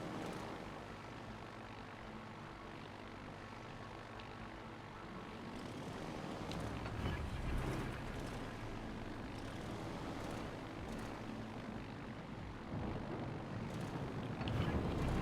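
Propeller engines of dive bomber aircraft droning steadily in World of Warships Legends, a naval battle video game, the roar swelling louder partway through and holding as the planes press their run.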